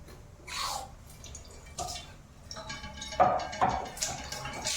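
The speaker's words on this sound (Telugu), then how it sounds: "ట్యాప్ ఆన్ చేయి" A kitchen tap turned on while chapatis are being made, water splashing and dripping in irregular bursts that grow busier toward the end, fairly faint.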